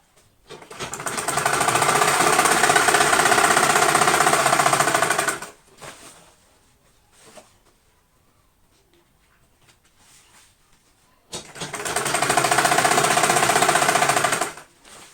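Sewing machine stitching a raincoat, running in two steady, loud continuous bursts with a pause of near silence between them.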